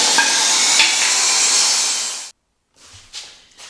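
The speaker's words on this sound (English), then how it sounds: "Alright, so we're going to cut it that way." A power saw cuts through wood for a Christmas decoration, a loud steady close whine lasting about two seconds before stopping abruptly, followed by a few faint knocks and brief rustling.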